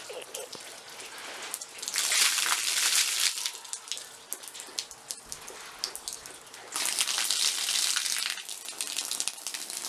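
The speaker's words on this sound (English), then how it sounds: "Water." Water rushes and splashes in a steady hiss, swelling louder in two bursts with dripping patter in between.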